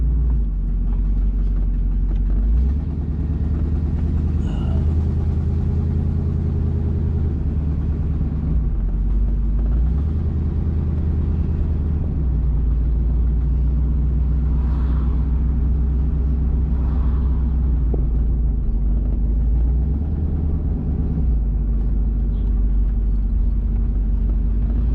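A 1969 Oldsmobile Ninety Eight two-door convertible cruises along a coastal road, its engine giving a loud, steady low rumble mixed with road and wind noise for the whole stretch, with slight swells as it changes pace.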